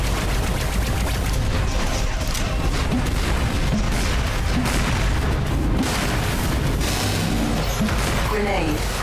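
A grenade explosion in the indie video game Gunhead, with booming blasts and bursts of gunfire crowding a dense, continuous game soundtrack; a synthetic voice speaks over the action.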